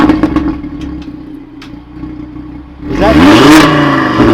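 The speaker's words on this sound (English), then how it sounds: "It's got a right side valve when it starts up, and then it's got a sports mode, and then the left side valve opens up." Audi TT RS five-cylinder rated at 420 kW, factory exhaust valve opened: a low idle burble with a brief spoken question, then a loud rising rev sweeping up sharply and holding near the end.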